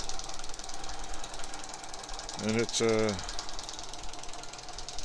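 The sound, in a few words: vintage Langelier drill press with leather belt running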